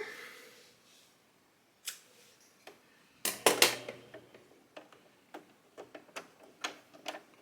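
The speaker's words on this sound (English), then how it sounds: "go ahead and cut your yarn." Scissors cut yarn close by, with a cluster of crisp snips in the middle. Quieter, evenly spaced clicks follow as the blades open and close at the knitting machine.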